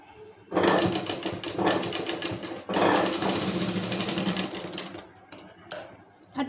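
Sewing machine stitching a gathered balloon (puff) sleeve in bursts of rapid mechanical chatter, pausing briefly between runs, close and fairly loud.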